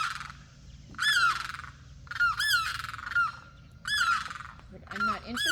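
Limpkin birds fighting and dancing, giving loud, close, wailing squawks in repeated bursts, some overlapping, over a low background rumble.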